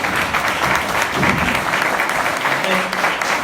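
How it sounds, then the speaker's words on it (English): Loud, close applause from a forum audience honours the mayoral debate candidates, dense continuous clapping with faint voices mixed in beneath it. "If we can give a big round of applause to all the candidates that participated in the forum"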